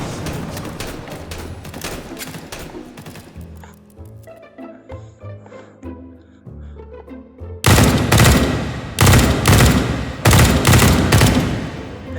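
Heavy gunfire in the H3VR virtual reality shooter game: dense rapid automatic bursts at the start, a quieter stretch of scattered sounds, then several loud, close bursts of fire near the end.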